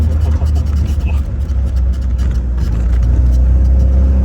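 A Lancia Beta Spider 2000 engine rumbles loudly and continuously at close range while driving, its low throb rising slightly, with a voice speaking over it.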